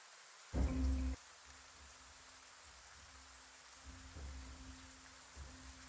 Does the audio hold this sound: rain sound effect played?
yes